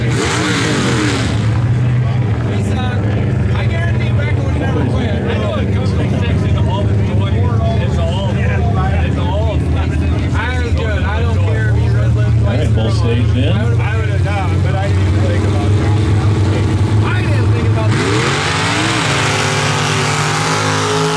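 Super stock mud drag race vehicles roar loudly and continuously through a first-round run, engines revving hard with shifting pitch until a sudden drop near the end, under a crowd and announcer's talk.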